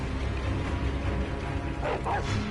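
A dog barks in Sekiro, giving a couple of short yelps near the end over a steady bed of low game ambience and rumble.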